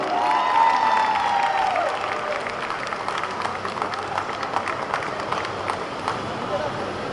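Crowd noise and applause filling a hall as a child is welcomed onstage at a Malayalam film trailer launch event, steady and dense throughout with a brief whistle-like tone near the start.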